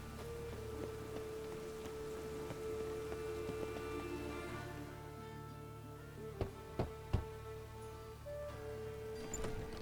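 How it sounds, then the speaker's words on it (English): Rain falls steadily in The Witcher 3 game world, a soft, even patter under a low ambient hum, with a few hoof-like clops near the end. "Raining again."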